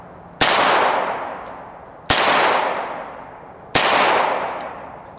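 Three sharp, loud shots from a Ruger Mark III Target .22 LR pistol ring out close by, evenly spaced about a second and a half apart, each followed by a short fading echo outdoors.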